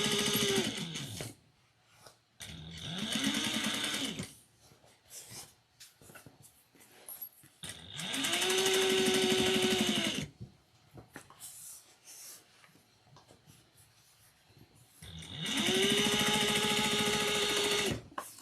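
A sewing machine top-stitching a triangular shoulder bag runs in three sustained bursts separated by short pauses, its motor whirring close and steady with a light rhythmic needle clatter.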